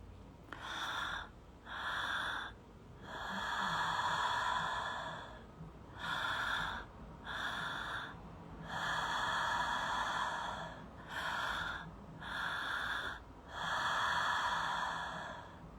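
Rhythmic active breathing in a guided breathwork exercise, with strong, airy breaths in repeated cycles separated by short pauses and no talking.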